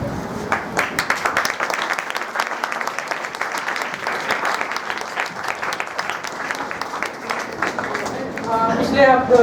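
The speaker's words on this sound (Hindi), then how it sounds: "तो इसके लिए एक बार ज़ोरदार तालियां बजाइए।" Audience applause at an Urdu school event, sustained crowd clapping with crisp individual claps audible throughout, steady in level and rising slightly toward the end.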